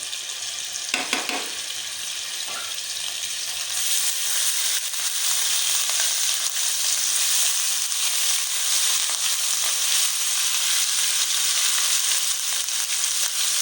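Garlic-ginger paste sizzles steadily in hot cooking oil and butter, a dense, loud frying hiss that swells after a few seconds and holds, with a couple of brief stirring clatters near the start.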